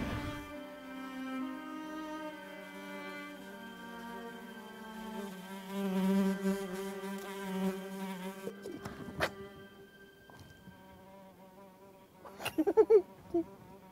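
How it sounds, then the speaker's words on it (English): A fly buzzes in a folk-horror short, a thin humming drone with shifting pitch that holds steadily for several seconds, then breaks into sharper, louder buzzing bursts near the end. "change it into a fly."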